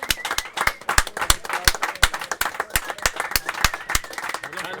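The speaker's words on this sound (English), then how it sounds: "Can we give it one last final round of applause for Newry LAN MVP Panda?" Audience clapping at a Rocket League LAN gaming event as the MVP is honored: a steady patter of many sharp, close hand claps over about five seconds, rising and falling slightly in a room crowd.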